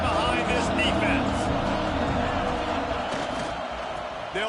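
A stadium crowd at a college football game between Texas A&M and USC keeps up a broad, steady roar, with an announcer talking over it throughout.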